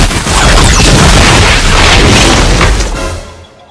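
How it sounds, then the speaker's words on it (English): A heavy, booming airstrike explosion with a long roaring rumble that fills the moment and fades toward the end, loud and close, no talk. "Call in that airstrike."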